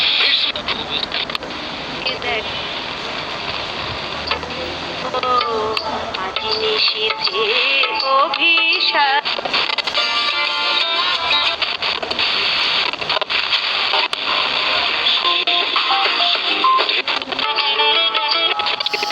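A new FM radio set plays a broadcast, steady music-like tones and voice-like sounds filling the whole stretch at a loud, constant level with no pauses.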